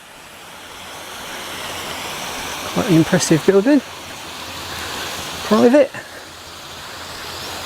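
A river near Dumbleton Mill in the Cotswolds gives a steady, even rush of flowing water throughout, while someone speaks briefly over it twice.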